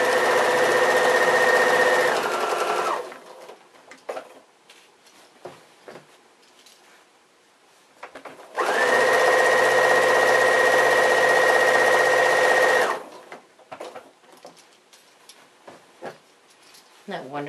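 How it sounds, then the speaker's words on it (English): A sewing machine stitches bias binding in two sustained, loud motor-driven bursts of a few seconds each, separated by quieter handling clicks and rustles. "I have a machine where I can just press the pedal and the needle goes down."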